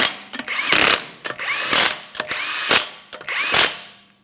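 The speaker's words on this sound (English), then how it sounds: "we're going to start on all 5 of our 21mm lug nuts." An impact tool spins the 21mm lug nuts on a 2014-2019 Toyota Corolla wheel in four loud bursts, each a whirring ratchety rattle with brief pauses between, close and without talk.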